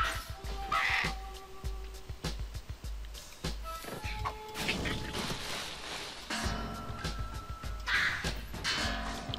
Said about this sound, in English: I wanna kill this crow.